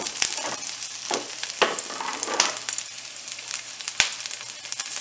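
Crushed ginger fries in hot oil for a chicken roll filling, giving a steady crackling sizzle broken by sharp spatters and a few stirring scrapes, close and clear with no talk.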